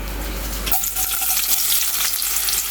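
Chopped onions sizzle in hot cooking oil for a sauce, a loud steady crackling hiss that swells as the onions go in and continues close up with no talking.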